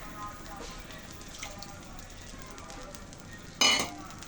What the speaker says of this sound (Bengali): আর একটু জল দিয়ে গুলিয়ে দিচ্ছি।